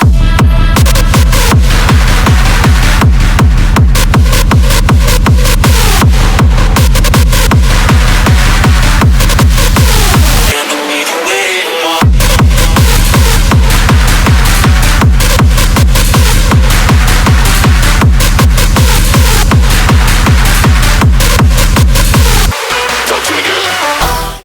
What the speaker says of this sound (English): So let's listen to the track to check our kick in context.